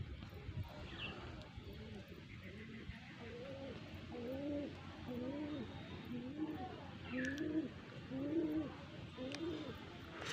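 Pigeons coo in a rolling, repeated rhythm, several birds close by, over a low background hum with occasional faint chirps.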